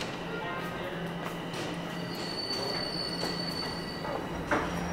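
A train rumbles steadily nearby on Jarvis Street in Toronto, with high, drawn-out wheel squeals over the track noise, continuous throughout.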